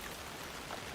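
Rain falling in the horror game Alan Wake 2 makes a steady, dense hiss of drops, an even wash of noise with no breaks, moderately quiet.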